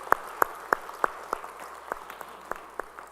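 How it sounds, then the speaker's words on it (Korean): Congregation applause during a Sunday church service: a handful of sharp, rhythmic claps in unison, fairly quiet and spaced about a third of a second apart, trailing off softly in a hushed sanctuary. "우리 참여 박수 주님께 영광의 박수 올리겠습니다."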